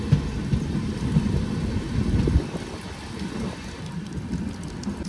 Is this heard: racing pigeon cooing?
no